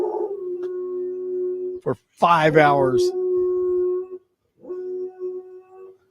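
A neighbor's dog howls in long, sustained, wavering tones, with a few pauses between howls, and a person speaks briefly partway through.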